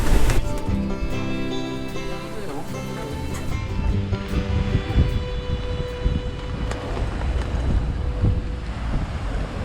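Waves slosh and crash against a sailboat amid gusty wind buffeting the microphone, with a louder surge at the start and voices faintly underneath.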